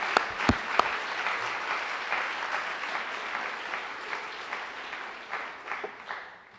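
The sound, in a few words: audience applause at political forum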